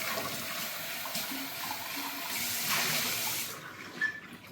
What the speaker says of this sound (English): Make sure to rinse out all the soap.